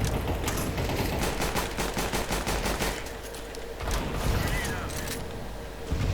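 Dense gunfire in a multiplayer shooter video game, rapid bursts and fusillades of shots crackling back to back at close range, with a player's voice talking over parts of it.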